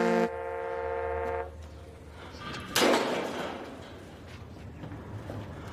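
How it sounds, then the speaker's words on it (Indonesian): A car horn sounds in one steady, sustained honk for over a second, fairly loud, followed by a sharp bang like a door slamming and quieter background rumble. "dengan suara klakson mobil yang sudah sangat familiar ini"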